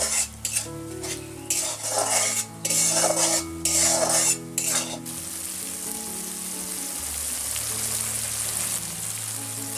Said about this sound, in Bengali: এবার মশলাটা আমরা একটু ভালো করে কষিয়ে নেব